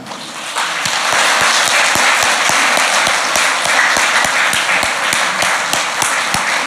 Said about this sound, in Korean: 등단하시기까지 다 같이 박수로 환영하겠습니다